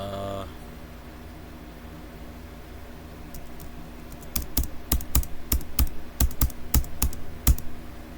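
Quiet room hum, then a burst of sharp, rapid keystrokes on a computer keyboard, loud individual clicks in an irregular typing rhythm over the final few seconds.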